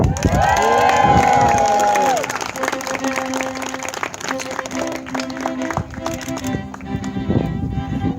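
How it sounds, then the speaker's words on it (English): Wedding guests applaud and cheer loudly for a newly introduced married couple, dense clapping mixed with shouts and whoops that stay strong and continuous throughout. "Let's keep that applause going."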